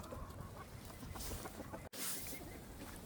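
Chickens cluck in a coop in the morning, a close, steady scratchy clucking that runs through the whole stretch with a brief dropout partway through.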